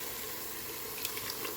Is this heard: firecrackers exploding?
no